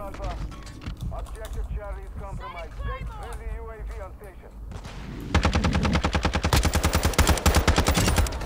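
Rapid automatic gunfire in Modern Warfare 2 multiplayer, loud and sustained as a fast rattling burst, following a stretch of someone talking excitedly.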